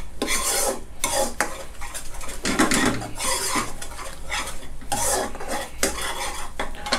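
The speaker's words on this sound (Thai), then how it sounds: "ผัดตรงนี้เขาหอมนะครับ" Shrimp being stir-fried with salted egg sauce in a pan, heard as loud, rhythmic metal scraping and clanking of a utensil against the pan in quick bursts, close up and without voices.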